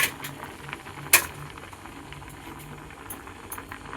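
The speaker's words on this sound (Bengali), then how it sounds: "আর এদিকে আলু সিদ্ধ হচ্ছে।" Potatoes boil in a pot, giving a steady low bubbling churn with a sharp utensil clatter near the one-second mark and a few faint clicks later.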